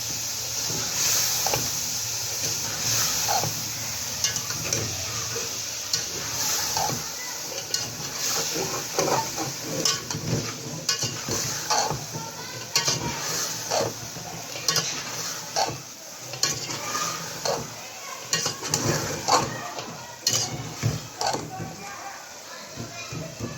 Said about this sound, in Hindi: मेथी को भी इसी तरह मैं 5 मिनट भून लूँगी